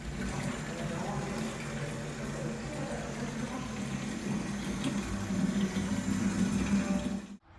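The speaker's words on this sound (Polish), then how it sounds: "Idę nalewać i wlewać 100 litrów." A steady rush of water runs from a campsite tap into a campervan's 100-litre tank, a continuous filling hiss that swells slightly before cutting off abruptly at the end.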